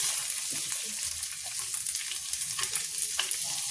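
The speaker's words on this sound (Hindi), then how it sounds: "वैसे ही मैं प्याज डाल देती हूँ" Steady, close sizzling and crackling of onions frying in hot oil, continuous throughout with small popping spikes.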